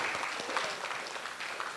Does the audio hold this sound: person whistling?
no